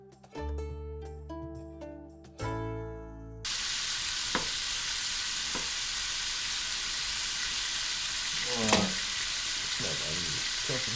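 Food frying in oil left in a pan, a steady sizzling hiss that takes over after a few seconds of music, with occasional clinks of stirring.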